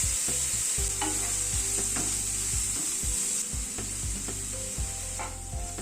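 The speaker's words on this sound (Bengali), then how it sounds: "পেঁয়াজটা হালকা করে ভেজে নেব।" Onion fries lightly in a pan over a medium gas flame, giving a steady soft sizzle broken by repeated stirring scrapes, with no voices.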